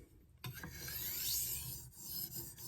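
A knife blade is drawn across a translucent Arkansas whetstone, polishing the bevel: a close, steady rasping rub that starts abruptly and runs in long continuous strokes, fairly quiet and with no talk.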